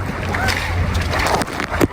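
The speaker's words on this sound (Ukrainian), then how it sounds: "Дуже сильний вітер." Strong wind roars and buffets the microphone in a steady, rough rush of noise, with a brief gust near the end, during mountain river rafting in China.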